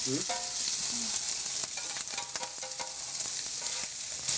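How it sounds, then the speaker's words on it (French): Pâté frying with mushroom stems in a hot pan gives a close, dense crackling sizzle with quick stirring scrapes throughout and no voices. "Là, on fait cuire le pâté avec les queues de champignons."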